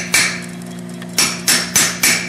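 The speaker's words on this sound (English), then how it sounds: "use rapid light blows." Light hammer blows ring on a blacksmith's hot chisel set into hot steel held in a vise: one strike, a pause, then four quick ringing taps, close and clear over a low steady hum.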